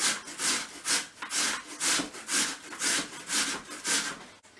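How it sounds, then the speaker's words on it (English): Raw potato rasps rhythmically against a grater in about ten even strokes, each a close, gritty scrape with a short gap between, alone and quiet in a kitchen. "peel and grate some raw potato"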